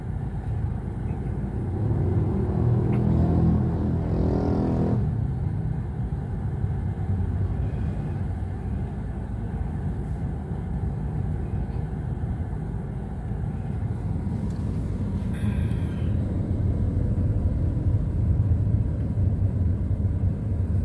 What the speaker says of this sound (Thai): เย็นรถจะติดแบบนี